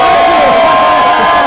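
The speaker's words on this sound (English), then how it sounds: "Audience, get ready to hey, cheer." A studio audience cheers loudly for the Muppets during a live morning television appearance, with a dense roar of shouting and whooping filling the short moment.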